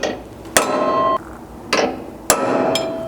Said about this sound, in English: when drilling, you want to start by center punching as close as possible to the center of each hole